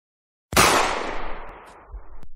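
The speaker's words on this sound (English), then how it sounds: "I'm going to shoot the TV." A single loud gunshot fired into a TV, a sharp close blast after a moment of silence that decays into a long rumbling tail.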